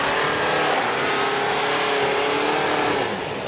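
MG Majestor SUV in 4x4 auto mode climbing off-road terrain, its engine holding a loud, steady strained drone with faint harmonic lines, easing slightly at the end.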